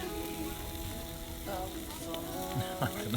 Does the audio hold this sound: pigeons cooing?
no